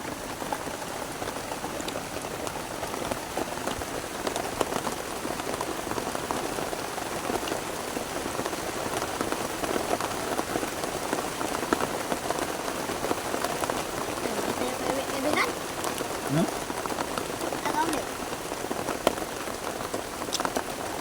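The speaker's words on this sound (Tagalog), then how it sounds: "lakas ng ulan" Heavy rain pours steadily onto a surface, a dense, even hiss of drops that continues unbroken throughout.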